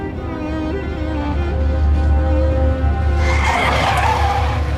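A car in a dramatic scene speeds along with a loud, steady engine roar, then a harsh tire screech builds near the end; no voices are heard.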